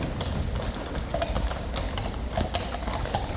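King's Guard Life Guards horses ride out toward their Knightsbridge barracks, hooves clip-clopping steadily on hard pavement in a continuous overlapping rhythm, close and clear, amid outdoor crowd noise.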